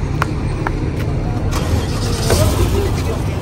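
A car drives toward a high-speed train station in Saudi Arabia, its engine a steady close rumble with road noise and a few short knocks and clicks inside the cabin.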